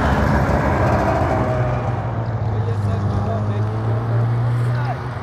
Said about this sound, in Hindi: पूरा स्नो बाइक ही इधर, ये देखिए एक और बंदा आ रहा है रफ्तार पकड़ के